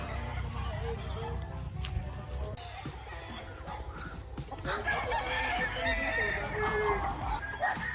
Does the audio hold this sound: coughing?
no